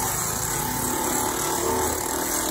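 Electric filing machine roughening the surface of a handmade Ankara fabric slipper, a constant buzzing motor whir, close and steady for the whole moment.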